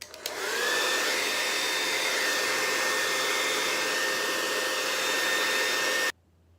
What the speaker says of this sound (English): I'm gonna go in with the blow dryer once again, just to make sure it can get a little bit dry before sticking it on